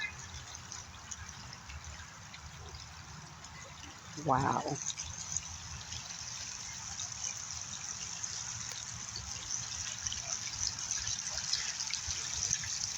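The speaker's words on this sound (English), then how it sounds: "Just listening to the water, the still of the water." Water flowing steadily outdoors, a continuous hiss-like wash throughout, with a single person exclaiming briefly over it.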